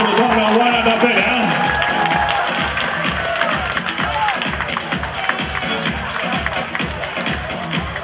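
A school ball audience applauds the organizing class's form teacher with steady, dense clapping and some cheers that fade slightly over the eight seconds, with voices mixed into the crowd.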